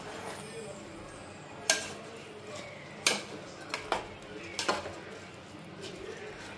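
A spoon stirs bottle gourd vegetable biryani in a metal pot, with soft scraping under the mix and four or five sharp clinks of utensil against the pot rim spaced a second or so apart.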